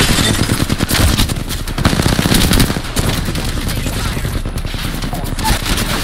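Gunfire from the Apex Legends video game comes as dense, rapid bursts of automatic shots, loud and close, in overlapping volleys that keep going and ease off slightly toward the end.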